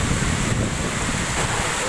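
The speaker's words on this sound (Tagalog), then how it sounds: "Ito hangin yan guys. Ang lakas." Strong wind mixed with rain roars and buffets the microphone continuously, a loud, rushing broadband noise with no voices, among damaged banana plants.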